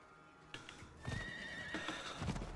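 A horse in Diablo 4 lets out a loud, drawn-out neigh, with heavy hoofbeats thudding beneath it, mixed with other game effects.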